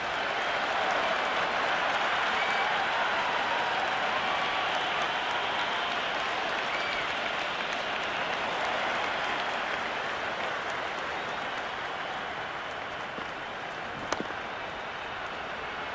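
A cricket stadium crowd applauds and cheers in a dense, sustained roar of clapping that holds steady at full volume and eases slightly toward the end, with one sharp crack near the close.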